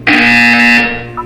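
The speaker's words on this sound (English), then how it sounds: "You will hear a buzzer." Loud buzzer from the video game Portal 2: a single harsh, steady electronic tone lasting under a second, then a brief fainter beep, with no talking.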